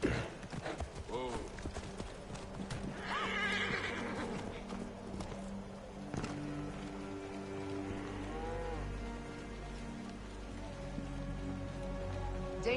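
Horse whinnies and clip-clopping hooves in Assassin's Creed Origins, mixed with game rain ambience and a voice speaking over it.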